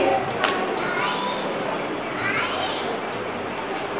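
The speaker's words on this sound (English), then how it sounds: "Please give them a clap." Scattered audience clapping at a school annual day function, a steady patter of hands with background crowd chatter and voices mixed in, moderately distant and continuous.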